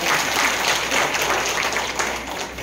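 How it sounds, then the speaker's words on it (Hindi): An audience claps steadily throughout, a dense, even wash of applause from a crowd at a public gathering, loud and close, with no break in the clapping. "एक बार जोरदार ताली बजाएं इसके लिए।"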